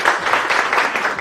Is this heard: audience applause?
yes